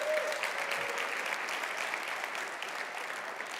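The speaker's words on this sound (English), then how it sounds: "How about another round of applause for Tatiana Lalkovic?" Applause from an audience at a corporate conference live stream, a steady wash of many hands clapping that holds evenly through the whole stretch at moderate volume, heard somewhat distant with no voices over it.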